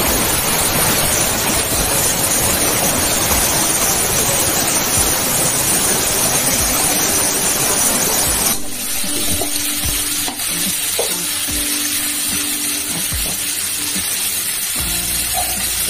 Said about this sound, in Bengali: এবার টমেটো গুলো দিয়ে দিচ্ছি